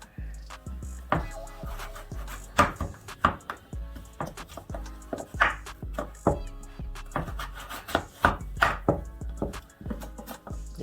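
Knife chopping potatoes and carrots on a cutting board for a curry chicken one-pot meal, a series of sharp, close cuts and scrapes in an irregular rhythm.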